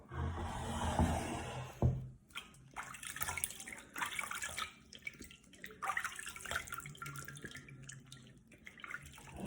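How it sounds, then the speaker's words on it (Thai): Tap water running and splashing as a face is rinsed, with an initial gush followed by uneven splashes and drips, close and moderately quiet. "แล้วเราก็ล้างน้ำออก"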